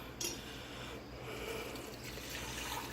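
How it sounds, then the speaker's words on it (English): Boiling water from the stove pours into glass canning jars for green beans, a continuous trickling splash with occasional light clinks of glass, steady and close. "So we are just going to fill up our jars with boiling hot water that I've had on the stove."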